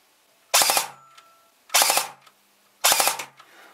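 Swiss Arms Cybergun airsoft replica firing three separate three-round bursts, each a quick sharp triple crack spaced about a second apart in an otherwise quiet room.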